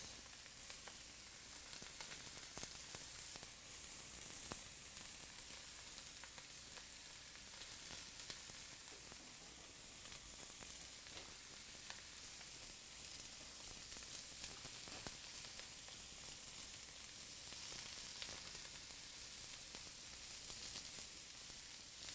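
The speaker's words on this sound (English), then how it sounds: "while those are searing on that side" Steak and onions sear in a hot pan with a steady, faint, hissing sizzle that holds evenly throughout, with no voices.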